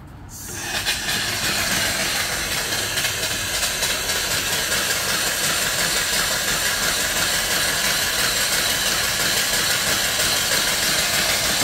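Antique steam engine, about 36 inches tall and long and built from raw castings, running on steam: a loud, continuous hissing, chuffing rush that starts abruptly and holds steady throughout, with no voices.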